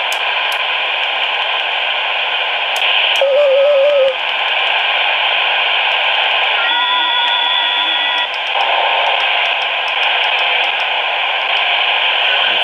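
Continuous shortwave static and hiss from an HF ham radio tuned to the 12-meter band, with faint warbling tones and bits of carrier whistle drifting in and out.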